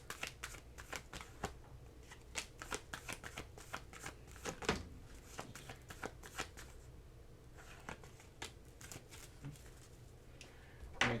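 Tarot cards shuffled by hand in quick, rhythmic riffles and soft slaps, close and fairly quiet, with a steady run of crisp papery bursts throughout.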